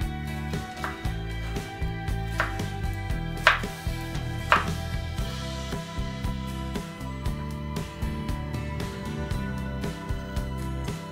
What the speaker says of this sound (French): Et ensuite les couper en julienne.